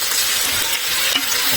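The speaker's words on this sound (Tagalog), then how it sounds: "Fry for few seconds the rice." Dry rice fries in a pan with no water added, a loud, dense sizzle running steadily throughout at close range, no voices.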